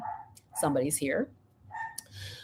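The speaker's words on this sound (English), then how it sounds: "I'm sorry if you guys can hear the dog barking." An indoor dog gives a couple of loud, close barks, then a fainter bark follows a moment later, with someone talking before and between them.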